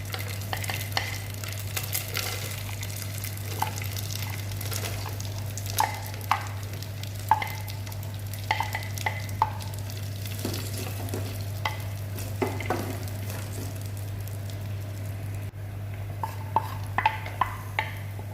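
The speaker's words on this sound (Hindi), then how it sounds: "सारे ड्राई फ्रूट्स और नट जो है मैं इसको तलने जा रही हूँ घी में" Dry fruits and nuts frying in ghee, a soft continuous sizzle broken by scattered clicks and scrapes of a spoon stirring against the pan, over a steady low hum, with no talking.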